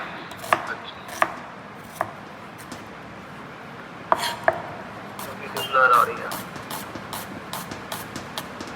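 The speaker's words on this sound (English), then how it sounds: "Now I am cutting this one into a half slice." A knife cuts vegetables into half slices on a board, giving sparse sharp chops spread unevenly through the clip. A faint, brief rattle sits in the middle, and the background is otherwise quiet.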